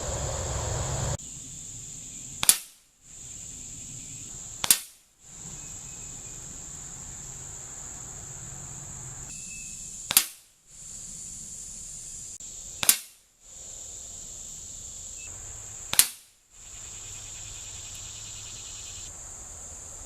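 Five sharp cracks from a .177 caliber pellet rifle fired from a bench rest, spaced a few seconds apart, each a brief snapping report over a steady high insect-like drone outdoors, with no talking.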